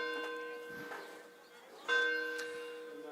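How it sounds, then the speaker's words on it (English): A church bell across the street tolling ten o'clock on a morning at a college baseball game, two clear ringing strikes with long sustained tones fading between them. "As the bell tolls across the street, it's 10 o'clock."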